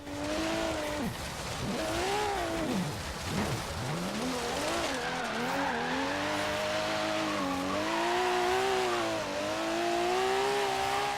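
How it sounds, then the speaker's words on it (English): Toyota Supra 2.0 twin turbo drift build in Forza Horizon 3 straining for wheelspin, its engine note rising and dipping in sweeping revs while a steady tire hiss runs loud and close throughout, no talking. "Struggling a little bit to get the wheels spinning."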